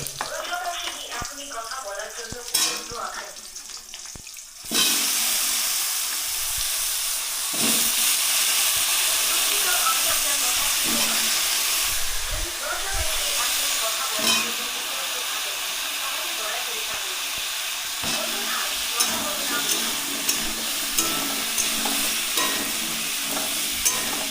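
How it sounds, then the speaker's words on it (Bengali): Cumin seeds and turmeric fry in hot oil with chillies in a pan, a loud continuous sizzle and hiss that bursts in suddenly after a quieter start, with scattered stirring clicks, close up. "এরপরে দেবো হচ্ছে 1 চামচ জিরে, দিয়ে দিলাম হলুদ"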